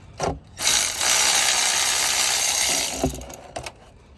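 A hand tool loosens the oil drain plug on a 2018 BMW X5, giving short ratcheting clicks followed by a steady scraping mechanical run of about two seconds and a few final clicks, close and clear with no talking.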